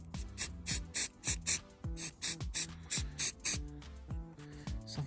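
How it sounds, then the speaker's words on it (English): Short bursts of white spray paint from an aerosol can hit a model vehicle. Roughly a dozen quick, close hissing puffs come in an uneven rhythm, with rattly music playing underneath. "I'm going to give it a spray with the white spray paint."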